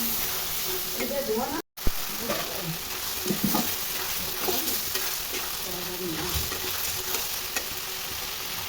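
Chicken fries in a pan with a constant loud sizzle, while a utensil stirs and scrapes through it at intervals.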